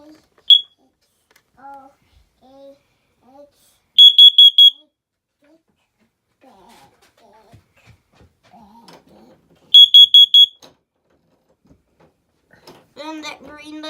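A household smoke alarm under test sounds two loud bursts of shrill, rapid beeps, separated by quiet gaps with someone talking softly in between.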